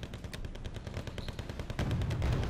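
Artillery and mortar fire in Wargame Red Dragon mountain warfare hammers in rapid, overlapping bursts, loud and close, thickening into a heavier rumbling barrage toward the end with no talk.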